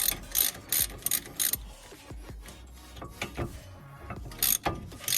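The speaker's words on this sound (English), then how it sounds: "we'll get the shorter Halfords Advanced 1/2" ratchet. Make sure it's set the right way, and then unwind the bolt." A Halfords Advanced 1/2 inch ratchet unwinds a brake bolt on a Ford Focus, giving bursts of loud, close clicking pawl ratchets separated by quieter pauses and a few knocks, with no voices.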